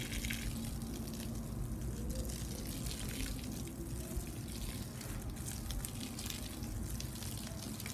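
Water poured onto a newly planted garden bed in dry Southern California, a soft, continuous splashing gush that stays steady and close for the whole stretch, with no one speaking.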